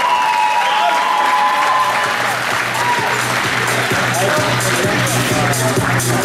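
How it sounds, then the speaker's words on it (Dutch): Sustained audience applause at a boxing or fight event, dense clapping filling the whole stretch with crowd noise, loud and continuous without a break. "Ik hou van dit soort applaus."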